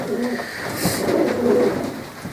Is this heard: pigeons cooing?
yes